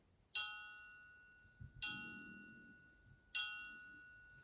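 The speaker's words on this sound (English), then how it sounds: "metal instruments like this triangle, one of my favourites, which make a more sustaining sound" A triangle is struck three times, each strike a bright metallic ring that sustains and shimmers, with faint low rustling between hits.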